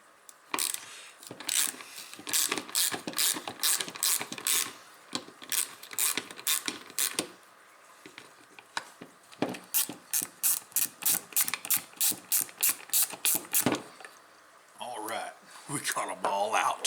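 A ratchet wrench tightens a fastener on the recoil starter of a 48-year-old 5-horsepower Briggs and Stratton engine, giving rapid close clicking runs in two long bursts with a short pause between them, then some handling noise at the end.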